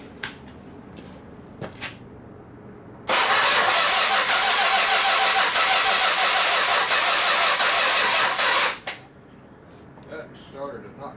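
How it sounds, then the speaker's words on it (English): A 1958 Ford F100 pickup fitted with a 383 Dodge engine cranks on its starter in one long, loud, steady grinding run of about six seconds, with a few clicks and knocks before and after. "Starter did not crank very fast at all."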